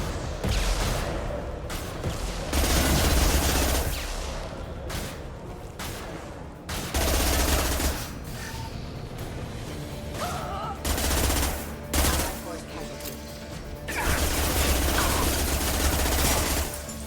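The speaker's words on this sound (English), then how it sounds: "I don't like the fact that I can shoot the gunship. Why can I shoot the gunship?" Sustained rapid gunfire aimed at a gunship in Mass Effect 2, dense bursts of automatic shots rattling in repeated waves with brief pauses, loud and close.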